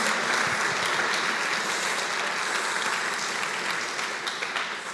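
A church congregation applauding during a sermon on victory over temptation, steady crowd clapping at a moderate distance that tapers slightly toward the end.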